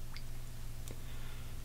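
An Omega Proraso boar-bristle shaving brush dropped into a cup of hot water and soaking, giving a soft close squishing, faint drips and a couple of brief wet pops over a low steady background hum.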